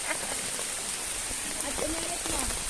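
Rain falls outdoors during a hike near Daraitan, Tanay, Rizal, with a steady close hiss of drops on surfaces and faint voices murmuring underneath.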